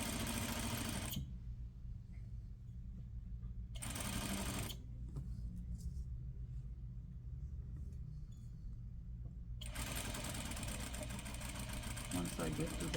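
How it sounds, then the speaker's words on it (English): Sewing machine running steadily to stitch a set-in sleeve at a half-inch seam allowance, loud and continuous in long bursts broken by short pauses, with a faint motor hum carrying through the gaps. "I am using the stitching guide for stitching at 1/2 inch from the edge"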